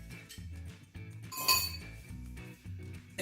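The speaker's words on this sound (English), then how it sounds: "Add 1 large ice cube" A large ice cube dropped into a rocks glass for an orange Sazerac, one bright clink near the middle over quiet background music-like tones.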